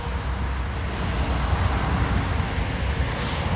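Steady broadband roar of passing traffic at a busy autobahn rest area with space for lorries, a continuous wash of road noise with some wind, fairly distant and unbroken.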